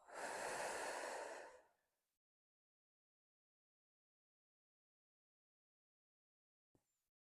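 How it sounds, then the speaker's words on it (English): A single slow, breathy exhale during a Pilates core breathing exercise, close and clear for about a second and a half, then fading into near silence with a brief faint click near the end. "breathing out, empty everything in"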